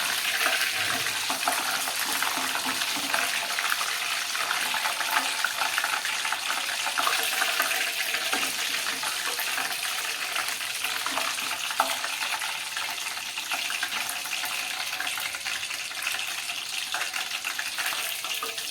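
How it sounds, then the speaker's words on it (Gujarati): Coriander leaves, washed and stripped from their stems, sizzle in hot oil over a fast gas flame. The frying hiss holds steady and close, broken now and then by faint crackles. "જુઓ, કોથમરીના પાન પણ સારી રીતે તળાઈ ગયા છે."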